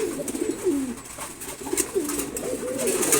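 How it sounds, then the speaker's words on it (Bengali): A red Lal Chulli pigeon coos in low, rolling phrases that rise and fall several times in quick succession, heard up close amid light coop noise. "লাল চুল্লি সুন্দর একটা কবুতর।"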